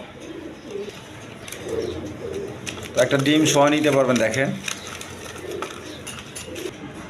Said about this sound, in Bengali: দর্শকবৃন্দ এখানে এক পেয়ার ফিলব্যাক কবুতর আছে